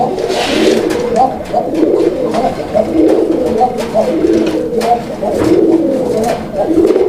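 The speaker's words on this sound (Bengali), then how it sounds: "এখানে একটা সিঙ্গেল কবুতর আছে সিঙ্গেল একটা শার্টিং কবুতর" A single shorting pigeon, a Bangladeshi pet breed kept for sale, coos steadily at close range, its soft low calls repeating in a continuous murmur with no talk over them.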